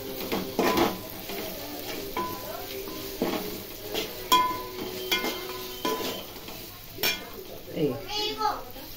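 Food frying in a pan with a pinch of turmeric being stirred in, sizzling with intermittent scraping and clanks of a spoon against the pan, while someone talks over it.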